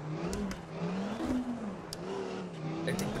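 An Audi Quattro rally car drives a Barum Rally Zlín special stage near Biskupice, its engine note climbing and falling through revs with a continuous, close rasp and no voices.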